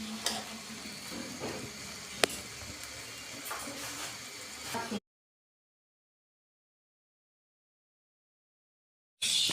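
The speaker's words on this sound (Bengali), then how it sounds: "সবজিগুলো ভালোভাবে নেড়ে নিচ্ছি।" Winter vegetables frying in a pan while being stirred, a steady sizzle with scraping stir clicks, cutting to silence before the sizzle briefly returns.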